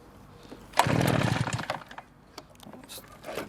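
Neotec backpack leaf blower engine being pull-started, a sudden loud burst of engine noise that sputters and fades after about a second, followed by quieter clatter and handling sounds close by.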